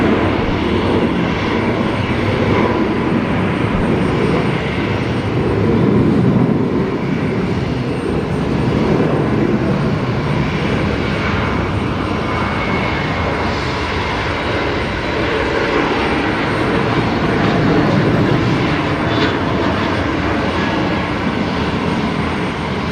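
C-17 transport aircraft engines running in reverse thrust at Brisbane Airport, a loud sustained roar that swells and eases slightly across its length without any pauses.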